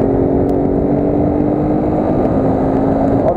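A motorcycle engine drones steadily and loudly while riding in a Republic Day flag march ride in Chandigarh, mixed with constant wind rush, no speech.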